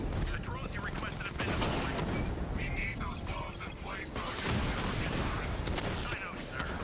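A large bomb with a 10-block blast radius detonating in a Batman physics video game, heard as dense, sustained crashing and rumbling with mechanical rattles over nearly seven seconds, with a voice talking over part of it.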